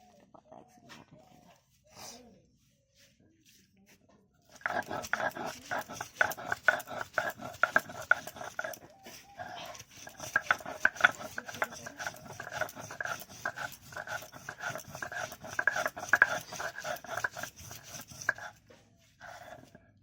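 Gadal leaves being ground into a paste for pakoras, a busy run of rough scraping and pounding strokes close by that starts after a few quiet seconds and keeps up steadily to near the end.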